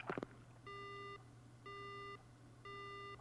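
A phone line goes dead in the Death Mark horror video game: three evenly spaced electronic tones, each about half a second long, repeat after a few quick knocks at the start.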